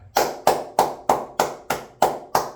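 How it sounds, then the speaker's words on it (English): Eight slow, evenly spaced claps ring out close and alone, a single person's hands striking in a steady rhythm in praise of a football player. "Chubb, round of applause for you"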